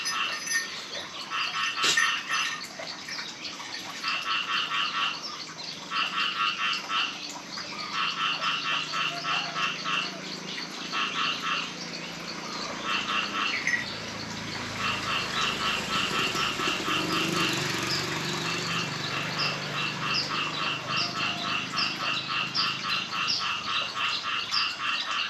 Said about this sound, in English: we got frogs, and crickets, and birds